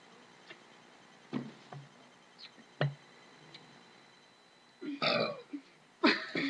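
A person burps repeatedly, several short and scattered belches followed by two louder, longer ones near the end, close and clear against a quiet room.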